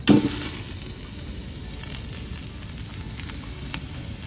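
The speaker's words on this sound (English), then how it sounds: "All right, it looks like the oil is nice and hot, so let's go ahead and add the beef." Beef chunks drop into hot vegetable oil in a large pot at a campfire, giving a sudden burst of sizzling that settles into a steady, close frying hiss with faint crackles.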